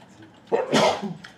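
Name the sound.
sneeze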